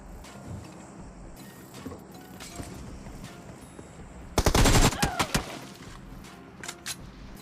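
Automatic gunfire in BGMI, a first-person battle royale shooter, comes as a dense rapid burst of shots in the middle followed by a few scattered cracks, over a low game ambience.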